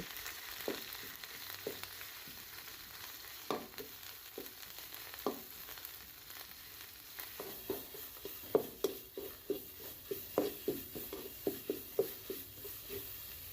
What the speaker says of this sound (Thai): ใส่น้ำมันลงไปเดี๋ยวเราจะมาผัดเครื่องแกงก่อนนะคะ